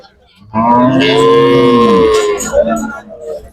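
A bullock moos loudly and close by, one long drawn-out bellow that tails off into a short lower grunt.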